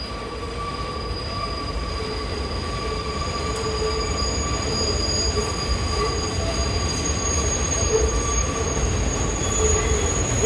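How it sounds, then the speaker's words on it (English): A New York City 7 subway train rumbles loudly and continuously on an elevated track in Queens, with high, steady wheel squeals ringing over the rolling clatter throughout. "This is a Manhattan bound 7 train"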